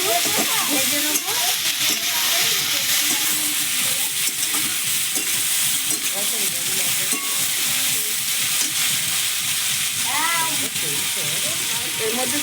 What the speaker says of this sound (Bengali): শিম, বিন, এবার আমি একটু ভেজে নেবো।